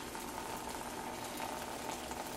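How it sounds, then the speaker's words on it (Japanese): Hot water is poured onto ground coffee to bloom it, a steady, soft, continuous hiss of liquid running for the whole stretch with no talking. "まず真ん中をお湯差しますね"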